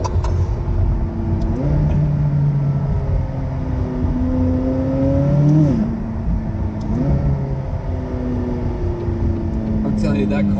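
A green supercar accelerates hard through rising and falling gear sweeps, its engine revving loudly and close with a brief burst near the end, while people talk over it.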